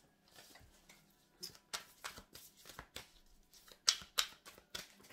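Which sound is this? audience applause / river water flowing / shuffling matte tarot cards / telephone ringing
shuffling matte tarot cards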